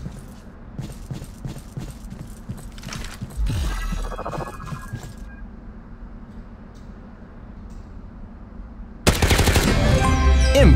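Gunfire in the mobile shooter Shadowgun War Games: bursts of rapid automatic shots and clattering weapon mechanics over steady game ambience, ending in a loud, dense volley of fire.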